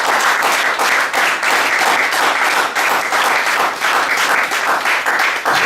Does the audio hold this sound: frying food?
no